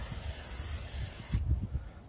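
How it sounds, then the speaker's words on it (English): Cooking spray hisses onto a hot baking pan at a camp kitchen in one steady burst lasting over a second, close and fairly loud, then stops abruptly, leaving low background rumble. "What I'm going to do is spray it down."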